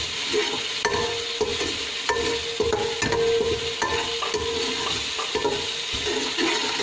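Spices roasting in a hot pan for kadhi pakora, a steady close sizzle and crackle with repeated sharp clinks and scrapes of a spoon stirring against the metal, continuous and alone with no talk.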